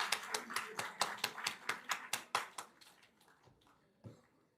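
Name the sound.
round of applause for the hostel staff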